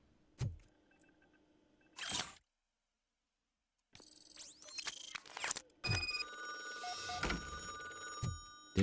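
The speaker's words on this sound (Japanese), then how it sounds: "電話だよ。" Telephone ringing in the video game RoboCop: Rogue City: short bursts of electronic ring at the start, then a longer stretch of ringing layered with other game sounds, clear and fairly close.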